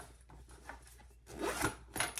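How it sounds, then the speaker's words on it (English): A zipper is drawn along a handmade triple-zipper crossbody bag, producing close, scratchy ratcheting bursts that grow louder toward the end, with no talking. "Pull our zipper out here."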